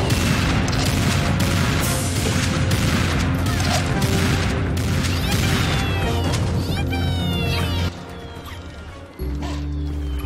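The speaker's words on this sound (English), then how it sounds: "Grenades!" Grenade explosions in the Serious Sam 2 video game: a loud, dense barrage of crashing booms and blasts overlapping nonstop, with a brief drop near the end before the rumble resumes.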